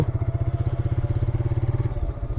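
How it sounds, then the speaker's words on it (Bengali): A Suzuki Gixxer Monotone motorcycle engine runs at idle after being started, a close, steady, rapid thumping pulse lasting a couple of seconds. "বাইকটা স্টার্ট দিয়ে দিয়েছি এখন বাইকটা রাইড করবো"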